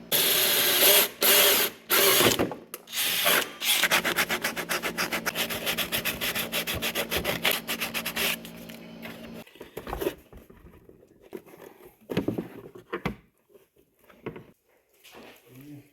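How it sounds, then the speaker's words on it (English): Hole saw cutting a 2 1/4 inch opening in a BMW E46 airbox for a snorkel, a steady grinding rasp for several seconds after a few short bursts, then stopping into quieter handling noises. "We are now going to drill the airbox for the snorkel using a 2 1/4 inch size hole saw."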